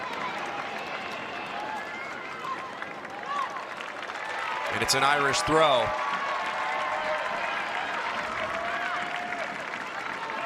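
Stadium crowd at Alumni Stadium during a Duke vs. Notre Dame women's soccer match, a broad steady roar of cheering and clapping that swells briefly, heard from afar beneath a commentator's voice, with a sharp whistle blast.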